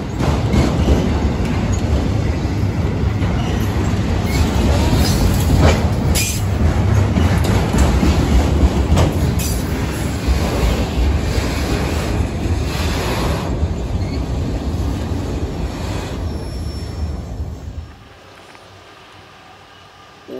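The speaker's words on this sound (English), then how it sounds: "our first grain train of the day" A freight grain train rolls past slowly near Fostoria in northern Ohio, a loud, continuous rumble of wheels and rail cars with faint squealing and clacking, heard close for about eighteen seconds before cutting to quiet.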